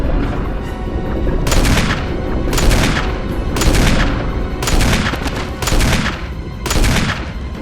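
Loud bursts of gunfire in a Resident Evil game as Barry shoots, five or six heavy booming volleys in a rough rhythm over a constant rumbling background.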